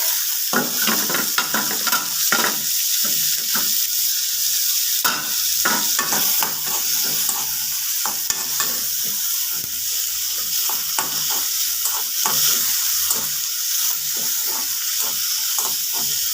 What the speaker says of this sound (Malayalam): തക്കാളി, സവാളയും കറിവേപ്പിലയും എല്ലാം നന്നായി ഒന്ന് വഴന്ന് വന്നിട്ടുണ്ട്.